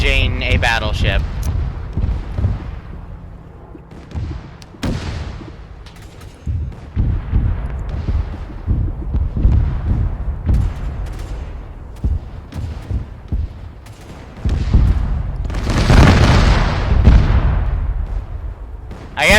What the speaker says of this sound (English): I guess that's a magazine explosion.